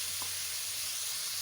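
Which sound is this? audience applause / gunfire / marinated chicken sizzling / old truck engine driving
marinated chicken sizzling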